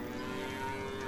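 A single short cow moo from the farming video game Farmer's Dynasty, a faint, steady, low drawn-out call heard on its own.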